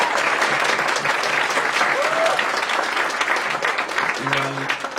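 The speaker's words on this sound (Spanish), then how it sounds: "un fuerte aplauso por favor" A crowd applauds loudly and steadily throughout, with a voice faintly heard beneath the clapping.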